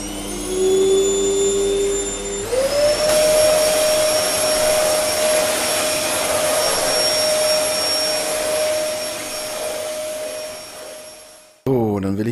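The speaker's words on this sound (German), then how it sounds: "ich fange schon mal an zu saugen" A household vacuum cleaner switches up to a loud, steady droning whine with a high tonal hum, runs for about nine seconds, then winds down and cuts off near the end.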